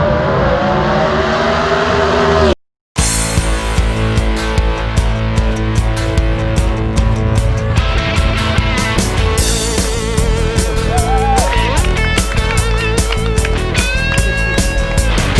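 Vintage gasser drag race cars roar off the line at London Dragway in Kentucky, engines revving hard and loud with rapid bursts and layered exhaust noise through the whole stretch.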